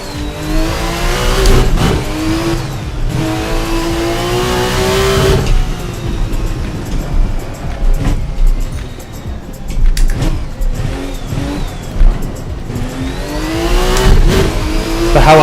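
A vintage turbocharged GT car accelerates hard on a street circuit near Napoli, its loud engine note climbing and surging repeatedly as it pulls away, close and continuous with no talking.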